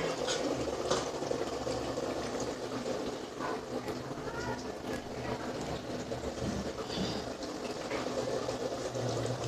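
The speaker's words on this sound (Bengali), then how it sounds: "জলটা ফুটে গেছে।" Water boils in a pot for biryani rice, a steady rolling bubbling rumble that fills the room, with a voice speaking faintly over it.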